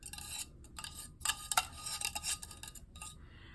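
Beaten egg yolks whisked together with warm sauce mixture for a soufflé, giving quiet, irregular clinks and scrapes of a utensil against a bowl, with brief pauses between strokes and no talking.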